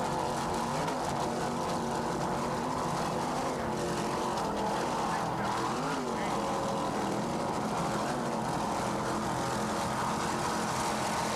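B-class racing powerboats, including a 31-foot Aerotech, roaring at full throttle over choppy water at a 1994 South Padre Grand Prix, a loud continuous engine drone with shifting pitch, an announcer's voice faintly underneath.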